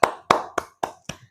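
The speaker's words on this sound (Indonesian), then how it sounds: "kasih tepuk tangan dulu." Five separate hand claps ring out in an elementary school classroom, evenly spaced and sharp, each with a short decay, fairly close and alone with no talking.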